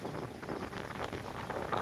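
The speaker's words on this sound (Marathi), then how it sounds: "वारा अतिशय जोरात वाहत आहे" Blustery, cold wind rumbles and buffets steadily at Bajirao Mastani lake, with gusty rushing noise throughout and no voices.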